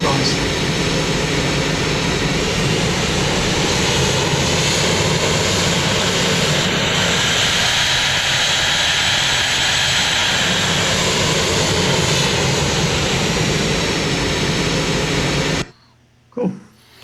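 A synthesized aircraft engine effect made in Krotos Igniter roars continuously and loud, its pitch rising smoothly, before cutting off near the end with a brief faint sound after.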